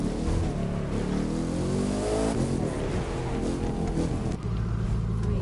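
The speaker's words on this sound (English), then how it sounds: "I love that engine. Just listen to that engine." A hypercar engine in The Crew 2 racing game roars loud and close, its pitch climbing through the revs with a deep, rumbling growl, briefly dipping as it shifts, then pulling on again.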